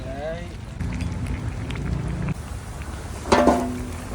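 A pot of beef leg curry bubbling on the boil, a steady low seething hiss with a lid noise partway through and a short voice near the end.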